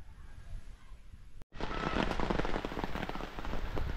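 Steady rain pattering on surfaces at a mountain resort, a dense hiss of drops that cuts out briefly and then returns louder and fuller.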